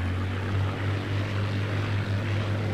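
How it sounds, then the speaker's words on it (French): A propeller aircraft engine at full throttle in a Battle of Britain air combat video game, a steady loud droning hum with a strong low rumble that holds unbroken throughout. "On va repasser en full moteur."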